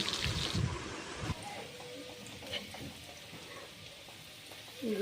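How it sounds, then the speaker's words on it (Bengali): Faint, soft sizzling of potatoes frying in oil, a low continuous crackle with a few louder bursts at the start. "আলুগুলো ছাড়লাম এখন আলুটা ভেজে নেব"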